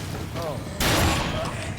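A shotgun blast goes off in Dead Rising while fighting zombies: one sudden, loud, broadband crack that rings into a sustained noisy tail over steady game background sound.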